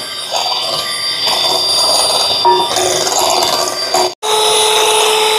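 Eggless brownie batter is beaten with sugar by an electric mixer, a steady loud whirring buzz that runs unbroken for about four seconds, cuts out briefly, then resumes.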